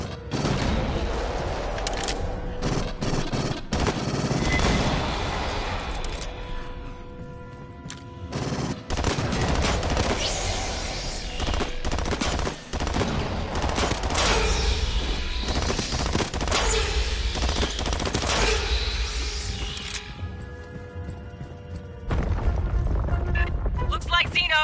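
Rapid gunfire and bursts of automatic weapons fill a firefight in the sci-fi shooter Aliens Fireteam Elite on PS5. Dense, loud volleys run almost continuously, with short gaps and booming impacts, and voices are heard faintly beneath.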